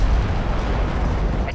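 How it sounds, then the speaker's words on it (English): A nuclear explosion in the real-time strategy game Homeworld: Deserts of Kharak, heard as a loud, sustained low rumbling roar that fills the whole moment without letting up, with no speech over it. "Nice little nuclear explosion there."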